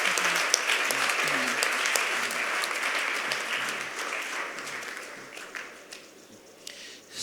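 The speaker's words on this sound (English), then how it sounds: "can we give a very big clap to Akua Akyere?" Audience applause at a youth choir inauguration ceremony, a dense steady wash of clapping that slowly thins and fades toward the end, with faint voices underneath.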